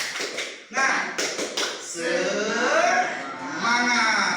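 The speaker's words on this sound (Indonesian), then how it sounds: "Tepuk semangat." A school class in an Indonesian lesson performs the 'tepuk semangat' clapping chant: a few sharp rhythmic claps, then many voices chanting together, up close.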